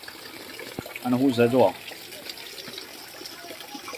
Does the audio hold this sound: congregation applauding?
no